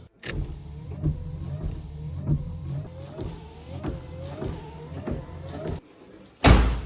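Windshield wipers on a drift car run in a steady rhythm, each sweep a repeating motor whine with a soft thud at the turn, carrying on for several seconds before a sudden loud knock ends it; nobody speaks.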